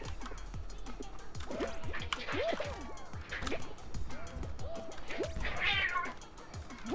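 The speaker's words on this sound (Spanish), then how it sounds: "¡Hay un gato muriéndose!" A cat meows repeatedly in short rising cries, several in quick succession, close and fairly loud against a busy game backdrop in Fall Guys with faint watery drips.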